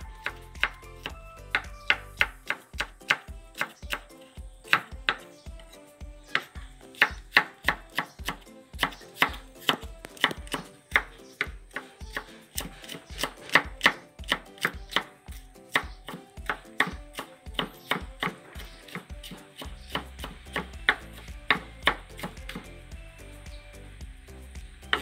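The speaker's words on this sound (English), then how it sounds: "We have to chop it." Steady knife chopping on a board while preparing sun-dried salted fish and bittergourd, a long run of sharp, evenly spaced close taps with brief pauses, no talking.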